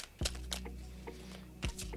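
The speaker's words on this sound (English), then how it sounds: "I feel like the overhand shuffling for this deck is going to be what works best for me" Close, quiet overhand shuffling of a tarot deck, cards sliding and tapping softly in a few light strokes with faint flicks, and no voices over it.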